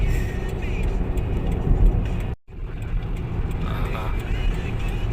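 A car cruising smoothly at about 120 km/h on a Kuala Lumpur road in Malaysia, heard from inside as a steady, loud cabin rumble of road and engine noise with one brief dropout midway.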